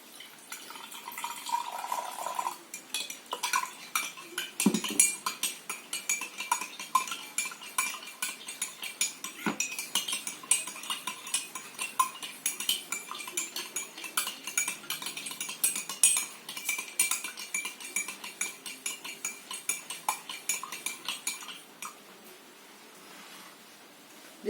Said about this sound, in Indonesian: Kemudian kita campurkan air dan aduk hingga rata.